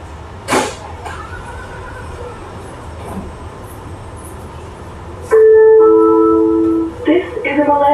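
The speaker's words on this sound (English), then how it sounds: "This is a Millennium Line train to Larfage Lake, Douglas." Steady rumble of a SkyTrain Millennium Line train in motion, with a brief squeal early on, then a loud electronic chime and tonal motor whine as it pulls away.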